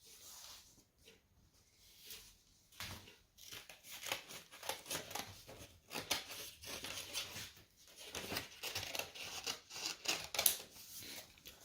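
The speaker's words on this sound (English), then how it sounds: "you can cut off that excess bottom part with the scissors" Scissors trimming excess paper off an origami sheet: a series of close, crisp snipping and rasping cuts in irregular bursts, with quiet pauses between strokes and no speech.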